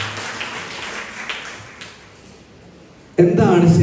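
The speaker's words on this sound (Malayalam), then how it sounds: "മറ്റ് എക്സിക്യൂട്ടീവ് മെമ്പേഴ്സിനൊക്കെ നല്ലൊരു ക്ലാപ്പ് കൊടുത്തു" A crowd of audience members breaks into applause for the executive members at an Armonia 2023 gathering, the clapping bursting in loudly near the end after a stretch of quieter room sound.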